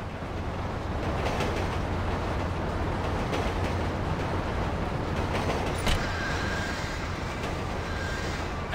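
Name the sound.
train passing in video game GTA 5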